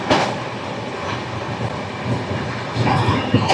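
The Howrah–Bengaluru Duronto express runs nonstop through a station, a loud steady rumble of wheels and carriages with faint clatter and louder swells near the start and end.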